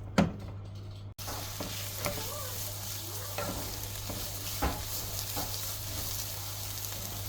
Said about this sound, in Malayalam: ഒരു സ്പൂൺ തേങ്ങയോടിട്ട് നമുക്ക് മിക്സ് ചെയ്യാം